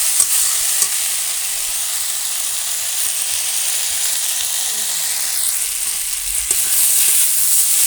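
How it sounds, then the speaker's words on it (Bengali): Chunks of potato and eggplant are stir-fried in a pan, producing a constant close sizzle and steamy hiss with soft stirring scrapes now and then. "এবার আলু বেগুনটাকে ভালো করে কষিয়ে নেব।"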